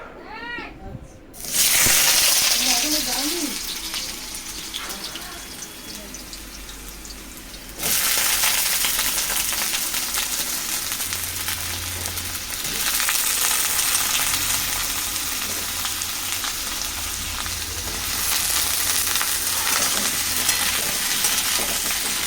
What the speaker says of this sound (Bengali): আলুটা ভাজা হোক।